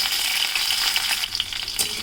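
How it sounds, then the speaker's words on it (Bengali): Bitter gourd pieces fry in mustard oil after a tempering of cumin and dried red chillies, producing a loud, continuous, crackling sizzle. "করলাগুলো প্রথমে একটু ভেজে নেব"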